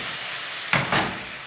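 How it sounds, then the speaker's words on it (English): Mushrooms sauté in hot sesame seed oil with a steady close sizzle, broken by two short louder bursts of crackling as they are stirred in the pan. "Saute the mushrooms first."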